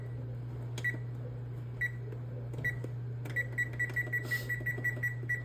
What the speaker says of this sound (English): So I'm going to use this, and I'm going to start a timer.